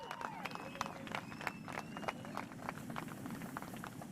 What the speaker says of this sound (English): Let's give all of our longboarders, top 8 men, top 8 women, a big round of applause